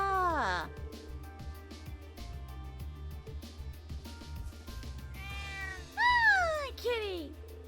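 A cat meows in the video game Trails of Cold Steel 2, giving a short meow at the start and two longer, rising-falling meows near the end over soft background music.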